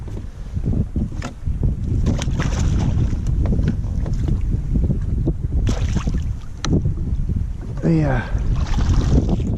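Gusty wind buffets the microphone during kayak fishing in central Queensland, Australia, with roaring bursts and occasional splashes and clicks, plus a brief spoken word.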